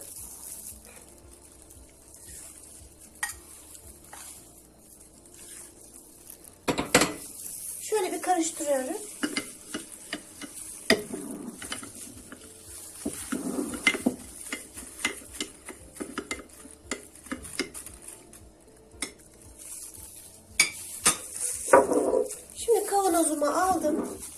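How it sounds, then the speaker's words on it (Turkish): A spoon stirs rock salt into whey in a pot for homemade white cheese, with scraping, clinking and liquid swirling in bursts while someone talks throughout. "karıştırıyorum"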